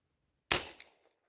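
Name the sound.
Primary Arms FM9 pistol shot with SilencerCo Octane 45 suppressor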